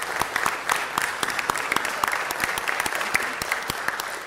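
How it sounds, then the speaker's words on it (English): People at a city council meeting applaud an honoree, with many distinct, sharp claps in a steady, sustained round and no speech. "Could we please give him a round of applause?"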